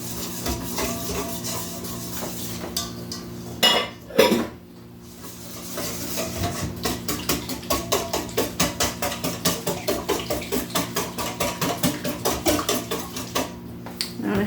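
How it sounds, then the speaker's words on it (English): Cornmeal muffin batter being mixed in a bowl, with a spoon knocking against the sides in a quick, steady rhythm that picks up after a brief pause, close and fairly clear. "Mix her up."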